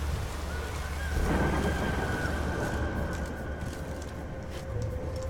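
A thunderstorm in the video game The Witcher 3: Wild Hunt, a deep rolling thunder swelling over steady rain with a faint tonal hum beneath, continuous and fairly loud with no talking.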